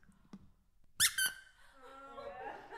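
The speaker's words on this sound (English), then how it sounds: "It squeaks." A squeaky toy monkey gives two sharp, loud squeaks close up in quick succession, with a soft tap before them and a voice speaking afterward.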